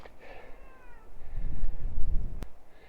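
A cat meows close by, a drawn-out wavering cry at the start, then rumbling low handling noise and a sharp click, with another short meow at the end.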